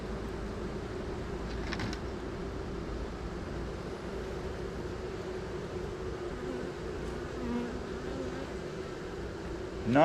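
Bees hum around open beehives, a steady close buzzing drone that carries on evenly throughout with faint background noise.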